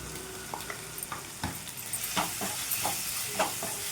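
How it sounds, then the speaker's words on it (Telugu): Onion and tomato, seasoned with salt and turmeric, frying in oil for a gourd masala curry: a steady soft sizzle broken by repeated scraping stirs of a spoon against the pan, close and moderately loud, with no talking. "ఈ ఆనియన్ టమాటర్ మొత్తం బాగా మగ్గిపోవాలండి."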